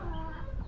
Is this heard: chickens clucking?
yes